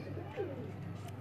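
A pigeon coos softly at close range from a rooftop loft of fancy racing pigeons, a short low warbling call over faint background murmur.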